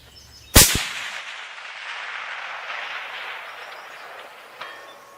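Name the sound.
rifle shot, Remington Core-Lokt 7mm Magnum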